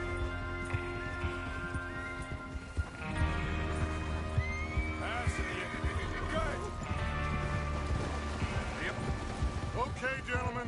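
Horses whinny and neigh repeatedly over clip-clopping hooves and a busy outdoor ambience in Red Dead Redemption 2, with voices speaking in the background throughout.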